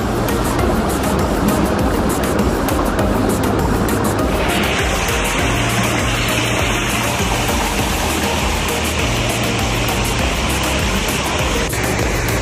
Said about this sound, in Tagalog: Lakas na agos. Ayan. So running water tayo.